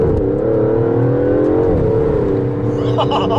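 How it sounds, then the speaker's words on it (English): A 715-horsepower, 900 Nm Aston Martin DBS Superleggera Volante convertible engine revs on the move with a steady, loud mechanical drone that dips briefly midway, then holds and swells again toward the end. "driving a 715 horsepower, 900 newton meter Aston Martin DBS Superleggera"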